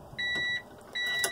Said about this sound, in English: we leave our headlights on, and we have that super loud beep